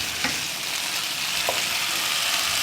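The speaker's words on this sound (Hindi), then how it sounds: "साथ साथ सोया सॉस, साथ साथ मैं स्पून चलाए जा रही हूँ चम्मच इसका।" Chicken filling for bread rolls fries in a pan with soy sauce, giving a steady, close sizzle broken by a couple of brief spoon scrapes as it is stirred, with no talking.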